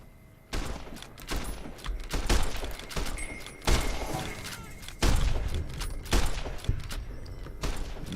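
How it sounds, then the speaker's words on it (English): Varmint rifle firing in Fallout New Vegas: a series of sharp, loud shots spaced irregularly, each with a thudding low tail, mixed with clattering impacts. "I'm trying the varmint rifle out actually"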